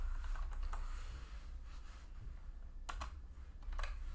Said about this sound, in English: Just type in this command